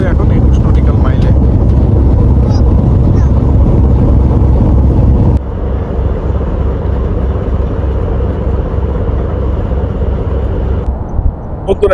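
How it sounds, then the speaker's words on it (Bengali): The passenger launch MV Bogdadia cruises along a river on the Dhaka to Chandpur route at about 21 knots, a loud steady engine drone with wind buffeting on the deck that shifts abruptly partway through. "এই মুহূর্তে আমাদের লঞ্চ চলছে হচ্ছে 21 নটিক্যাল মাইলের হিসেবে"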